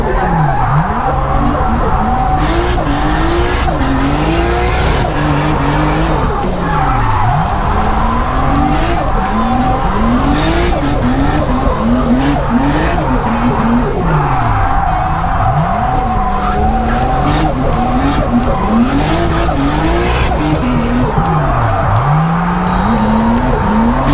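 A car drifts with its engine revving hard and its tires squealing in long, wavering skids that rise and fall repeatedly, loud and close throughout.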